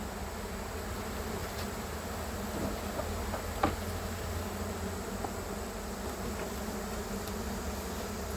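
A steady, continuous buzz of many honeybees around an open hive fills the air, humming evenly throughout with a few brief louder passes up close.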